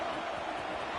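A steady wash of stadium crowd noise cheering in a football video game, a continuous faint roar with no distinct claps or peaks.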